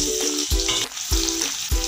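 Green chilli, onion, dried red chilli and panch phoron hit hot oil in a pan and crackle with a bright, steady sizzle while a rhythmic music track thumps underneath.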